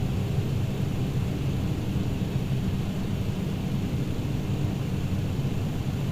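Steady, even roar of an MD-11 trijet airliner in flight in Microsoft Flight Simulator 2020, a continuous broadband engine and wind drone that holds constant from start to finish with no talk.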